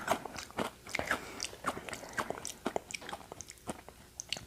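Cheese-flavoured snack being bitten and chewed close up, a steady run of sharp crunchy bites and crackles at moderate volume with no talking.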